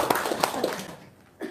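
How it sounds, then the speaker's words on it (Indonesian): A few people clap sparsely for a guest, producing several distinct, close slaps that taper off, followed by a single clap at the end. "Tepuk tangan dulu dong untuk set."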